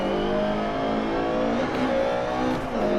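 A Lancia Evo 2 rally car engine roars loud and sustained on tarmac in DiRT Rally, revving high with pitch shifts through gear changes and no voices.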